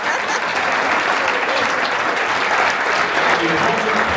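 Audience members at an audiobook conference in New York City applaud in a sustained, dense burst of clapping that stays loud and even throughout.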